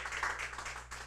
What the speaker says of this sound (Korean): 감사 박수 할까요?